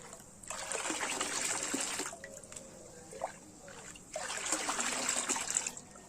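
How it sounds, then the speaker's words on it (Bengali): Diluted liquid fertilizer made from rotted oil cake, poured from a mug in a steady splashing trickle, with two long pours separated by a quieter pause holding a few drips and knocks, close by. "পচিয়ে তারপরে আরও জল মিশিয়ে পাতলা করে অল্প অল্প করে মগে করে আমি দেব।"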